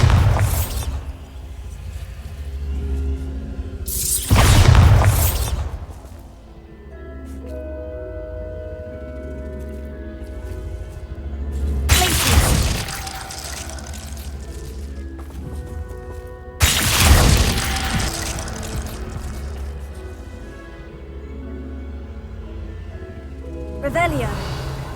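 Repeated booming blasts of the Bombarda spell in the Hogwarts Legacy video game, four loud bursts spread across the stretch over a steady game music bed, with a voice speaking between them.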